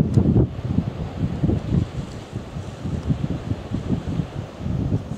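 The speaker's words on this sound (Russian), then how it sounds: "Ветрюган, волна." Strong wind gusts buffet the microphone on the Sea of Azov shore at near-freezing dawn, with choppy waves beneath. Bursts of rushing noise rise and fall irregularly, close and fairly loud.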